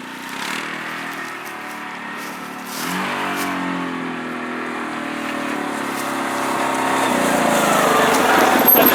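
A Yamaha Rhino UTV engine on a performance build runs close and steady, then its pitch climbs and the drone grows steadily louder toward the end.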